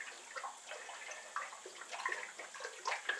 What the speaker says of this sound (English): My fermenter in with 5 liters of sodium bicarbonate, 1 teaspoon per liter, just cleaning out the bottom